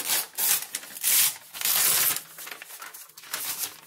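Packaging paper being handled close up, in loud bursts of crinkling and rustling that come in uneven waves, with brief quieter gaps between the crumpling strokes.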